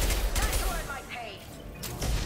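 Rapid gunfire from a high-impact weapon in the video game Mass Effect 2, a dense burst of loud shots with crackling impacts and battle noise, with a voice speaking over part of it.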